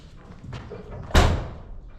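A door is shut with a single sharp slam, a solid thud landing after quiet shuffling room noise, close by and fading quickly, with no talking.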